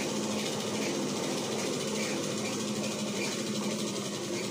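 A sewing machine stitches chudidar pants fabric with a continuous, even mechanical whir and rapid ticking rattle, held steady at moderate volume throughout.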